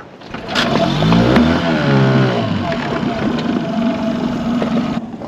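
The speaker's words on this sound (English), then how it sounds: "Okay, so I'm going to try to start the dinghy." A dinghy's outboard motor starts up and runs at a loud, steady idle with uneven revving, close by on the water in the Bahamas, a voice speaking briefly over the engine.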